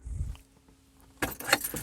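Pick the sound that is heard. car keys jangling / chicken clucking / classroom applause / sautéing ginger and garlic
car keys jangling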